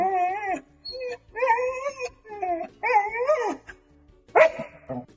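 A dog barks and howls in a series of about five drawn-out, wavering yelps with short pauses between them, fairly close and clear, ending in a sharper bark.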